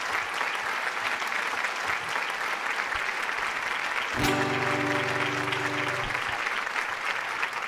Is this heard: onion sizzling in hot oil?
no